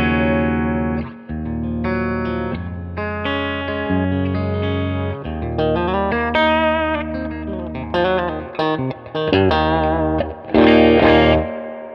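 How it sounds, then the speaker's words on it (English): Electric guitar rings out through a Carr Super Bee tube amplifier, playing sustained chords and melodic notes with a warm, slightly driven tone and reverb. "Carr amps never disappoint. Never. The reverb sounds great. The amp sounds great."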